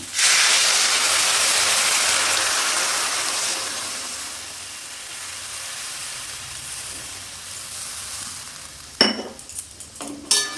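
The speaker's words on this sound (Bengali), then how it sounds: "উষ্ণ গরম করা জল দিয়ে দিলাম" Warm water hits a cooking parshe fish curry with brinjal and potato, letting out a loud, close hiss of steam that slowly fades, followed by a few clinks of stirring near the end.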